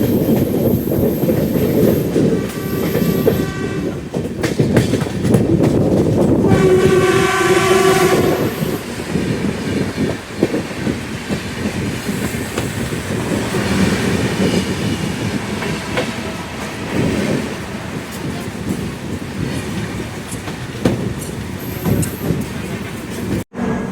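The Sairang-Guwahati express rolls into Chaparmukh junction, wheels clacking steadily on the rails, with a horn blast and squealing wheels partway through and some talk on board.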